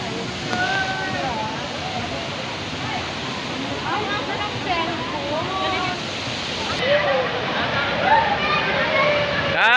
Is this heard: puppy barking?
no